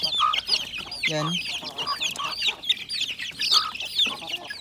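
A mother hen and her one-month-old chicks cluck and peep in a busy mix of short chirps and clucks, with a brief spoken word partway through.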